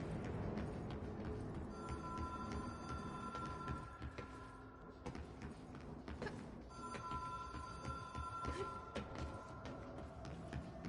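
A telephone in the Control video game rings in repeated electronic bursts, a rhythmic trilling bell sounding twice in long stretches over low, rumbling game ambience, fairly faint.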